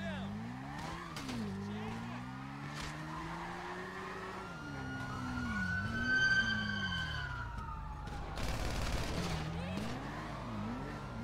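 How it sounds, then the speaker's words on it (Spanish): Police sirens wail and sweep in the GTA V video game, with car noise, a skid and a few sharp bursts among the chaos; voices are present underneath. "¿Por qué me están disparando?"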